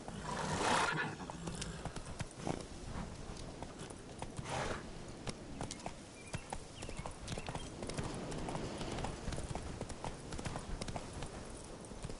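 A horse named in a PS4 video game gallops with a rapid, steady clip-clop of hooves throughout, with a neigh near the start and another midway, all fairly quiet.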